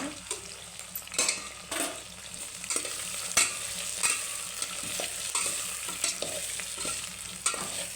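Drumstick stir-fry being stirred in a pan with garam masala and coriander, a steady scraping of the spoon against metal over a soft sizzle with light clinks, close up and with no one talking.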